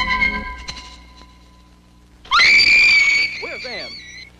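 Woman screaming in terror in the horror film Night Train to Terror, a loud sustained shriek that bursts in after quieter film sound and trails off into shorter wavering cries.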